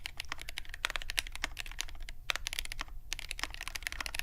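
Rapid typing on a GMMK Pro mechanical keyboard, with dense, irregular bursts of crisp key clacks and a few brief pauses, close and fairly quiet.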